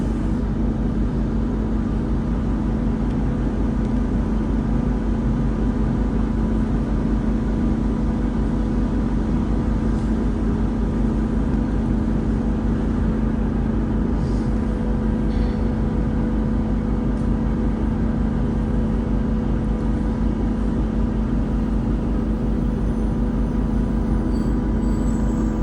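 A steady, loud, continuous rumble and hum of a train drawing into Moston station, with a constant engine drone and no distinct breaks.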